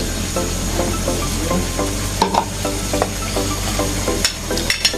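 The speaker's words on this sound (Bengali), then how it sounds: "3 চামচ কর্নফ্লাওয়ার নেব, একটু গোলা দেবো।" A spoon stirs three spoonfuls of cornflour into a batter for cabbage kuli pitha, making a steady run of light rhythmic scrapes and taps against the bowl over a constant soft hiss, with no talk.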